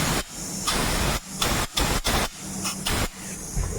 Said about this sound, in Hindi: ऐसे ये बोल्ट में हवा मार लेना ज़रूरी है ताकि अंदर कचरा फंस सकता है